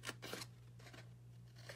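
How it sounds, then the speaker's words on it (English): Scissors snip through paper for a paper craft box, a few quick crisp cuts close by and fairly quiet over a low steady hum. "And then let's cut."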